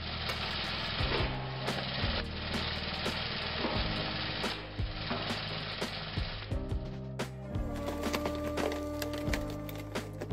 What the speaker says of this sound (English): The speed of splitting a log is very fast.